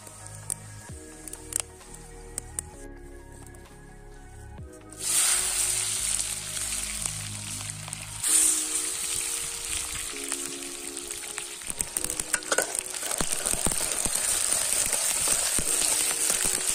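Chicken frying in oil in a hot pot over a campfire in the hills, with a close sizzle that jumps louder as food hits the oil, plus crackles and clinks, no talk.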